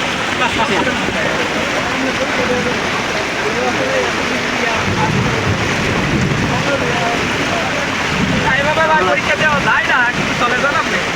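Steady heavy rain pours down continuously, a dense hiss with low rumbling underneath, close and loud throughout.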